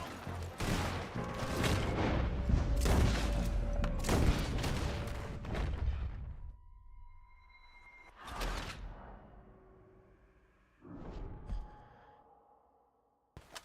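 Gunfight in Red Dead Redemption 2: a rapid barrage of loud, close gunshots and booms for several seconds, then scattered single shots and a final burst separated by quieter gaps with faint tones.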